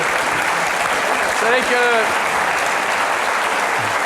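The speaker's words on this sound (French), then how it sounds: "Je vous demande d'applaudir, s'il vous plaît, Monsieur Jean-Claude Dreyfus qui vient s'asseoir avec nous" A studio audience applauds a guest, Jean-Claude Dreyfus, arriving on a television talk show, with loud steady clapping throughout and someone speaking briefly over it.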